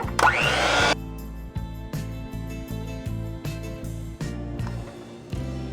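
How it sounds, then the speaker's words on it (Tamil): An electric mixer beats birthday cake batter at low speed, a steady motor whir with rhythmic bumps from the beaters, starting with a louder, harsher burst before settling into an even drone. "கடைசியாக ஒரு 1 மினிட் பீட் பண்ணிக்கலாம்."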